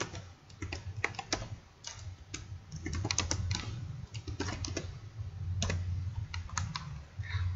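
Typing on a computer keyboard while entering statistics work, with rapid, irregular key clicks in bursts and short pauses, close and clear, with no talking.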